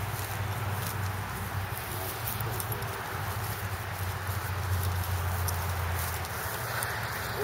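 A horse's hooves clip-clop and shuffle while it is loaded into a trailer, steady close footfalls at moderate level with no talking.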